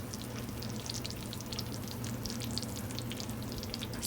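Creamy white chicken enchiladas, just out of the oven after 25 minutes of baking, bubble and crackle with faint, steady popping and sizzling, quiet and close.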